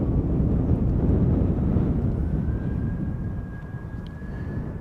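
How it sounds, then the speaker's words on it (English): A sixteen-year-old SAS Airbus A320 jet lining up on an airport runway gives a steady, fairly loud low engine rumble with a faint whine rising partway through, alone. "SAS flight 556 going to Stockholm, already coming this way. It's an A320"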